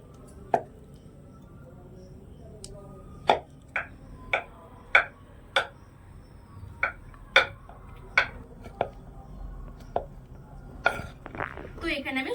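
A knife cuts a soap base into small pieces on a board, making about a dozen crisp, separate chops at an uneven pace, with quiet talking in the background.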